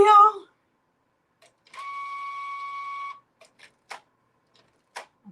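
A home printer runs for about a second and a half with a steady whirring tone, preceded by a short burst of a voice and followed by a few faint clicks and paper-handling knocks.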